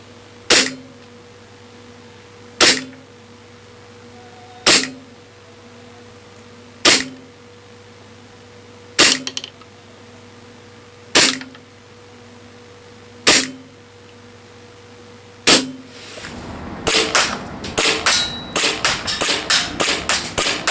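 An EMG BLU Compact green gas blowback airsoft pistol firing 0.2 gram BBs: eight sharp, evenly spaced cracks a couple of seconds apart, then a rapid string of closely bunched shots at the end, loud and close with no talk.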